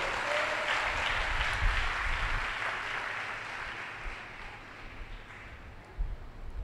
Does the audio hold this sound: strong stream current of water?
no